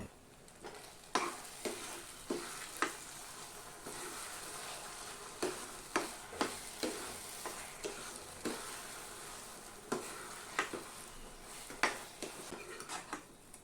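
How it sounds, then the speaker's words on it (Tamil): Wheat rava kesari cooked with ghee in a pan is stirred, giving a steady series of soft scraping and tapping strokes against the pan over a faint sizzle, with no talking. "இப்போ இதை நல்லா கலந்து விட்டுட்டு ஸ்டவ் ஆஃப் பண்ணிடலாம்"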